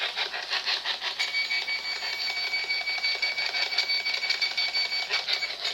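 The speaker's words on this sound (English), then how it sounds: "That beeping is just the temperature gauge going up" An electronic temperature gauge used on ghost hunts gives off rapid, repeated high-pitched beeps in a steady pulsing pattern, moderately loud and alone with no voices.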